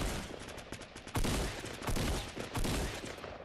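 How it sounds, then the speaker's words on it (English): Rapid gunfire crackles through a Fortnite battle, bursts of shots and fusillades close and loud, with heavier volleys surging at intervals amid continuous firing. "I'm getting shot from that fucking house over there."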